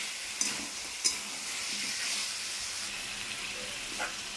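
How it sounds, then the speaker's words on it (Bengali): Potatoes frying in a pan with spice masala, stirred with a utensil for shrimp and jackfruit curry: a steady soft sizzle runs throughout, broken by two sharp scraping clinks early on and a faint clatter near the end. "এবার আলুর সাথে বেশ খানিকক্ষণ আবার মশলাটা কষাবো। আলুটাও একটু ভাজা ভাজা হবে আর মশলাটাও ভালো করে কষানো হবে।"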